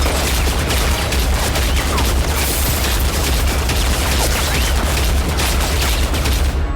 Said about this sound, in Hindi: हम अंदाजा लगा सकते हैं कि ये एक बड़ी गैटलिंग गन हो सकती है